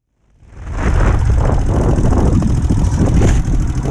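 A Royal Enfield Himalayan motorcycle rides close by, its engine a loud, steady rumble with wind noise that swells in and holds while the rider brakes with the front brake alone.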